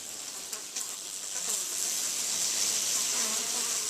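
Honeybees hum inside a hive opened for a January inspection, a dense, steady high buzz close to the microphone that swells slightly and holds throughout, with no voices.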